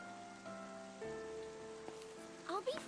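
Steady rain falling in a Final Fantasy video game, a continuous soft patter under a sustained musical tone, with a few rising chirpy synth sweeps near the end.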